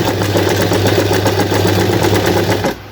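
A Janome NS7330N sewing machine stitches with a steady, loud, strained motor hum and rapid rhythmic needle chatter, cutting off abruptly just before the end.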